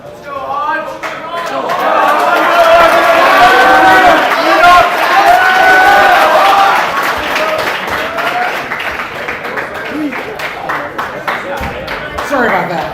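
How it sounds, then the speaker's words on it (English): Convention audience at a party assembly breaks into sustained, loud applause and cheering for candidates on stage, swelling and then thinning out, with voices and scattered shouts mixed in. "Round of applause for these two guys."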